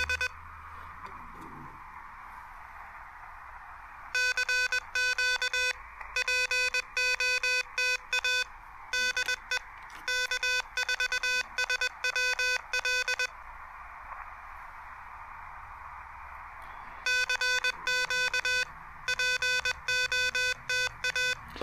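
Bursts of rapid electronic beeping tones come and go over a steady hiss of radio static from a superhet radio receiver, heard through a small tinny speaker.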